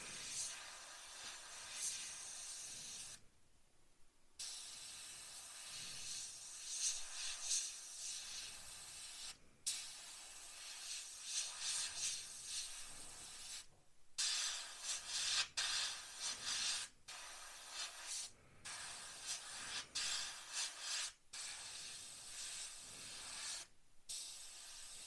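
Airbrush fitted with a 2mm needle sprays paint onto a 1/35 Spitfire Mk Vb scale model, a steady close airy hiss broken by frequent short pauses as the trigger is released and pressed again, with no talking.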